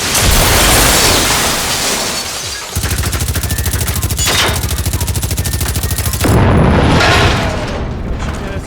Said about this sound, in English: he's shooting at us. It's a hunter.